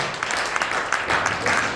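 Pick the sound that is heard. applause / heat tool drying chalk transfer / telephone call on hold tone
applause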